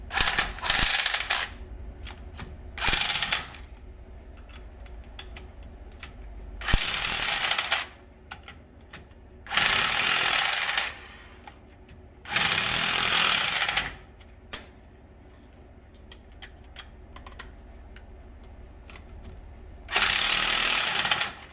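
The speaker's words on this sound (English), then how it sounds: "we're going to start to tighten these with the impact" Impact wrench driving lug nuts onto 25mm wheel spacers on a Mustang GT in a home garage, several loud hammering bursts of a second or two each, separated by quieter gaps of handling and clicks.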